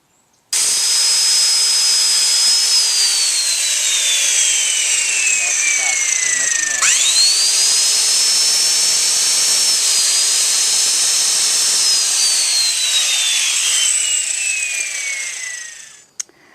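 Power drill whining steadily as it drives screws through treated wood legs onto a beehive, its pitch sliding down under load and climbing again, loud and close with no talk.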